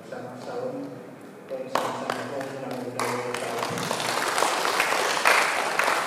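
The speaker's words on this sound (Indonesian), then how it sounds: "Sekali lagi kita berikan tepuk tangan atas paparan yang telah" Audience applauding at the close of a speech at a government program briefing in Teluk Wondama, a wash of clapping that swells and grows denser over several seconds, with a voice speaking at the start.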